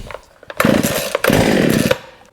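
Baumr-Ag GCS6200 petrol chainsaw on a little choke, a couple of short pull-cord tugs followed by two brief loud bursts of the engine catching and buzzing close by before dying away.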